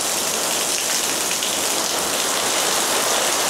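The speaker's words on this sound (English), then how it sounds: "It's just driving the rain into the trees." Heavy rain from Hurricane Milton near Disney World, pounding palm fronds in a loud, dense, unbroken roar of drops that holds steady throughout with no voices.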